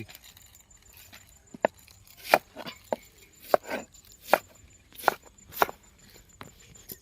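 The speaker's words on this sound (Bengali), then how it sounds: "ক্যাপসিকাম, পেঁয়াজ এভাবে কেটে নিতে হবে।" Knife chopping capsicum and onion on a board, with sharp, separate cuts landing at an uneven pace, near and fairly loud, with quiet pauses between them.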